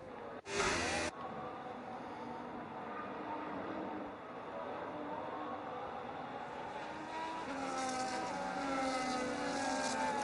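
Sim racing cars roll through a formation lap at Belgium, a continuous, moderately quiet engine hum with shifting pitch lines across the whole stretch, a brief loud burst near the start and a swelling tone toward the end.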